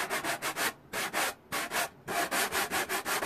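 A sanding block rubs back and forth across a wooden 1:12 scale dollhouse wall in quick, even strokes, about a dozen close, rasping passes with brief pauses between groups.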